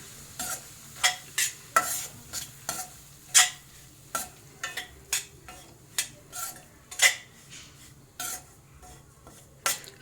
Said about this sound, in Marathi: रवा पण चांगला असा भाजून घ्यायचा